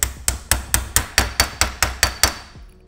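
A bearing being tapped onto the countershaft of an 800HP all-wheel-drive Honda K-Series transmission during a rebuild: ten evenly spaced, sharp hammer taps, close and loud, each ringing briefly before the next.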